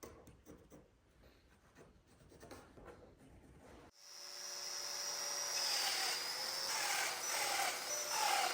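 A Domino joiner plunges a mortise into a wood window board, its motor spinning up suddenly into a loud, sustained high whine after a quieter stretch of light handling noises.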